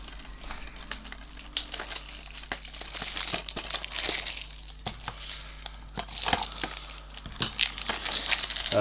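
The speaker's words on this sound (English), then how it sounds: "it's sealed in its original cellophane packet. When I'm now going to tear it slowly open." Slow crinkling and tearing of the cellophane packet sealing a 4K disc or Blu-ray, close and fairly quiet, with irregular crackles building over several seconds and no talking.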